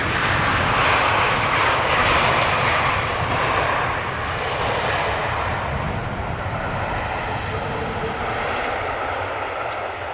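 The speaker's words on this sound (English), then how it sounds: "To Embraer 195 arriving from Stavanger, 1 hour and 2 minutes on the way, now touching down. Another idle reverse landing here." An Embraer 195 touches down on Schiphol's Polderbaan runway and lands on idle reverse, a loud, steady broadband jet roar that fades only slightly over the clip, with no talking.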